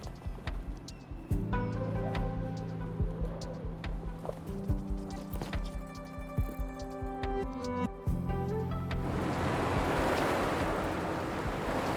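Water draining away in the Wuthering Waves video game, a broad rushing wash that swells over the last few seconds beneath sustained musical tones and soft chimes.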